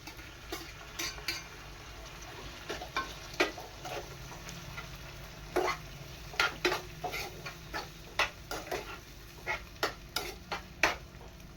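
Tomatoes frying with onions and curry leaves in a pan, stirred with repeated sharp scraping clicks in an irregular rhythm over a low steady sizzle, close and moderately loud.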